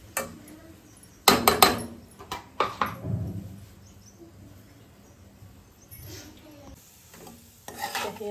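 Grated coconut tumbles into hot ghee in a pan and is stirred, giving a loud clatter and scrape burst early on, then quieter intermittent stirring and light sizzling, with a few more utensil knocks toward the end.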